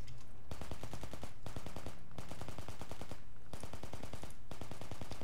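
Bursts of automatic machine gun fire in the military shooter game Project Reality, rapid evenly spaced shots in several long volleys separated by short pauses, loud and close.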